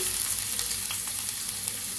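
Chopped onions fry in a pot of oil, giving a close, steady sizzle with a bright crackling hiss and faint stirring scrapes, no voices.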